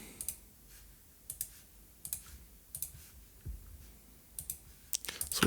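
Typing on a computer keyboard during a coding session, with short bursts of crisp, close key clicks separated by brief pauses, fairly quiet and without talk.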